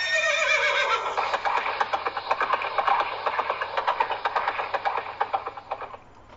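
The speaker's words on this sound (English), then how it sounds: "You have a horse that's scared." A frightened horse whinnies loudly and shrilly, the call breaking into rapid pulsing neighs before fading out, close and alone.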